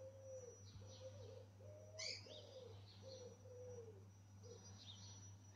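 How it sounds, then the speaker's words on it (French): Pigeons coo in a soft repeated series of low rolling calls, fairly close, with a faint bird chirp and a steady low hum beneath. "Le roucoulement des pigeons."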